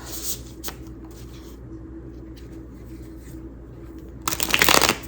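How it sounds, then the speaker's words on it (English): Tarot cards are riffled and shuffled in three short, crisp bursts, the last one louder and longer, close by with no talking. "Let's do 3 shuffles for Taurus"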